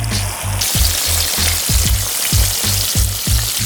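Beef steaks frying in peanut oil on a Blackstone griddle, a loud constant sizzle over a pulsing low rhythmic thump repeating about twice per second, with a brief higher tone at the start.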